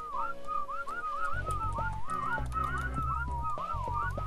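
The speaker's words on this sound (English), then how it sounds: "Did you whistle?" A person whistles a warbling tune of quick rising and falling notes in a game setting, clear over a low background rumble.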